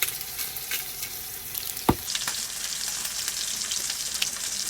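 Ribeye or prime steak sizzles steadily in a cast iron skillet at a campsite, a constant bright crackling hiss broken by one sharp clack partway through.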